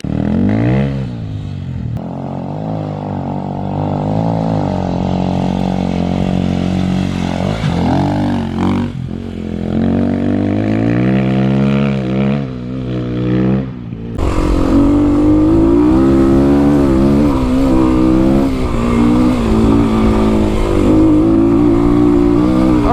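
A 2021 Kawasaki KLX300 dirt bike with stage 1 mods is ridden hard off road, its engine revving loud and close, climbing and dropping through the gears with one brief dip partway through before it pulls again with more power.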